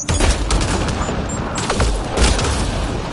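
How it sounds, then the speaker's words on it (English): Heavy video game gunfire, bursts of rapid shots and booming impacts in close succession, loud and continuous with no talking over it. "They shot him!"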